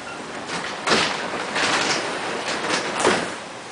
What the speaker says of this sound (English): can open this door real quick